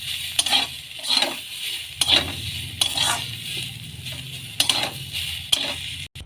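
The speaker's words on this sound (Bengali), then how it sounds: "এই যে পটলটা ভাজা হয়ে গেছে, এবার এটাকে নামিয়ে ফেলবো" Slices of pointed gourd fry in a pan while a utensil stirs and scrapes them, making repeated short clinks and scrapes about once a second over a soft, steady sizzle.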